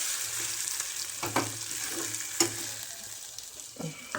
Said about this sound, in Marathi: त्याचे कढीपत्त्याचा आवाज छान येतो मसाल्यामध्ये.